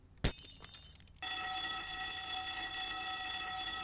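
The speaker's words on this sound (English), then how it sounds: "I guess that's an alarm for if 9/11 is happening or something" Alarm in an air traffic control tower in the video game Garry's Mod: after a sharp crash and rattling, a loud continuous harsh buzzing tone starts and holds steady to the end.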